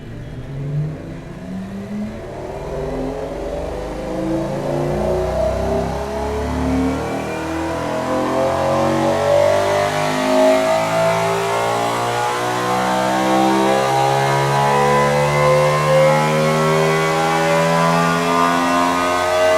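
V12 car engine in a video game revving up repeatedly, loud and close, with rising and falling pitch sweeps in successive climbs that steadily build in intensity, with no talk.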